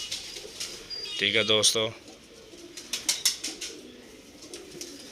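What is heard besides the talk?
teddy pigeon pair cooing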